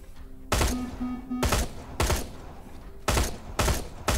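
Gunfire in the Terminator Resistance shooter game aimed at an explosive target: six loud, sharp, separate shots spaced irregularly about half a second to a second apart, each with a short booming tail.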